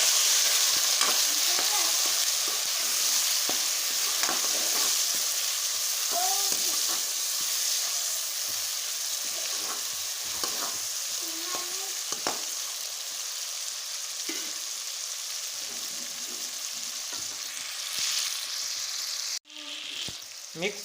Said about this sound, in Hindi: अभी इसके अंदर ये टमाटर और हरी मिर्च ऐड कर देंगे और इसको मिक्स करेंगे